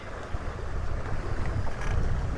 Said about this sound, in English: So I got the wind blowing in here.